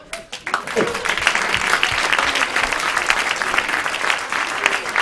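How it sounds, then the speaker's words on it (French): Comedy club audience applauds a comedian, a steady dense wash of clapping that holds loud for about five seconds after a brief voice at the start. "on applaudit Easton"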